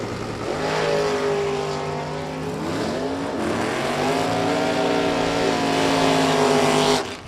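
A Pro Stock–style drag truck on an LS-powered back-half Chevrolet Camaro launch side by side at a drag strip, their engines roaring loud and close, with rising revs through gear changes for about seven seconds before cutting off.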